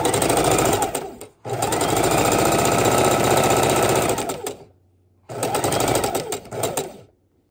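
A sewing machine stitches quilt seams at a quarter inch in loud, close bursts, a long run of several seconds broken by short pauses, then a final shorter run with a steady mechanical whir and chatter.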